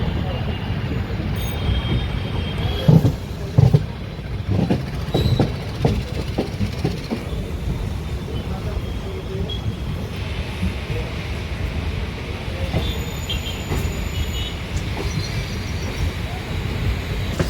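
MMTS local train at Lingampalli railway station, a steady rumble with rail clatter and a few sharper clanks, heard amid station ambience with talk in the background.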